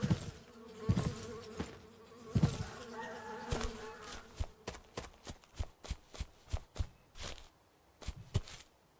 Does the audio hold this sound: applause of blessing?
no